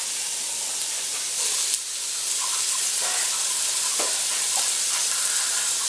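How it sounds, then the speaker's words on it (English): Food fries in a pan while a stuffed pumpkin dish with ginger, apple and nuts is being made, a continuous bright sizzle and hiss with a few light clicks, and no voices. "I'm just letting it fry a bit"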